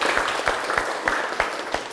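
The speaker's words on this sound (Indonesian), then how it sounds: "Oke, tepuk tangan untuk kita semua." A vocational school class applauds together in a classroom, with several steady rhythmic rounds of clapping at a moderate pace, fairly loud and close.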